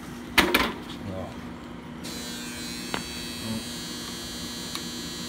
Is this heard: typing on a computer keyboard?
no